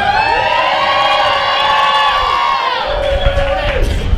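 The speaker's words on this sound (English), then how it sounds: "Can you make some noise for wild salmon?" A large crowd at an outdoor rally in Sitka against GMO salmon cheers and whoops loudly for several seconds, a sustained roar of voices with no single speaker.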